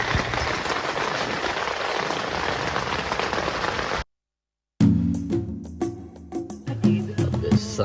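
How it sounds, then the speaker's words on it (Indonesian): Dense rain pours at night on a mountain, a loud, steady hiss that cuts out abruptly partway through, then gives way to quieter, irregular drips and knocks. "Hujan guys."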